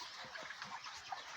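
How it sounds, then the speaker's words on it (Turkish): Meat chickens and roosters cluck softly close by in a village yard, a few short throaty calls over a faint hiss of background noise. "Bunlar ibiler, bunlar tavuklarımız."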